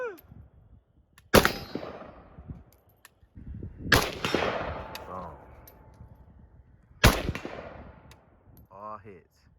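Sam7K AK47 rifle with an 8.5-inch barrel firing 7.62x39 at steel targets out to 100 yards: three loud, sharp reports spaced a few seconds apart, each ringing out with a decaying tail, with brief voices and movement between shots.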